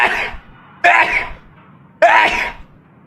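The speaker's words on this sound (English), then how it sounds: "I gotta sneeze." Three sharp, loud sneezes burst out at roughly one-second intervals from a male streamer during an online shooter game, each one a sudden explosive blast that fades quickly.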